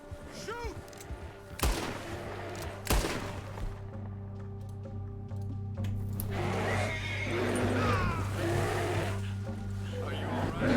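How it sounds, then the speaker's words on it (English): Gunfire in Red Dead Redemption 2 rings out as several sharp shots early on, followed by a longer stretch of mixed game noise with a horse whinnying, while voices talk throughout. "What are you shooting at?"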